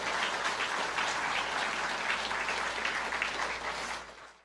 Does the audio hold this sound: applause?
yes